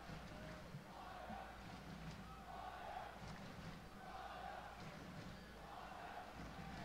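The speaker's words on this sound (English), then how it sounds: "A lot of spirit from the home crowd." A home crowd at a Chicago Fire versus Pittsburgh Riverhounds U.S. Open Cup soccer match chants and cheers in rhythmic swells, a distant, steady stadium roar heard faintly without commentary.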